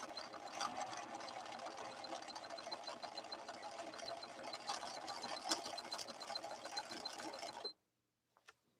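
A Viking Husqvarna 6460 sewing machine runs a cam stitch, a fast steady mechanical whirr with rhythmic needle ticking for about eight seconds before stopping abruptly, followed by a couple of faint clicks.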